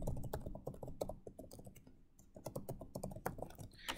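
Computer keyboard being typed on at a login screen, a quick irregular run of close, crisp key clicks with a brief pause midway before typing resumes.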